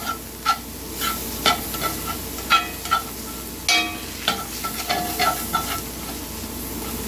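A spoon stirring liver-fortified chili beans in a pot, repeated scraping knocks in an uneven rhythm over a low, steady sizzle, close and fairly loud.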